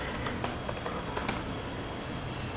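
Keys on a computer keyboard are tapped in a steady run of light, close clicks while a property listing is typed, with a few sharper strokes standing out above the soft patter.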